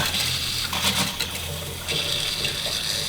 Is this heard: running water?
yes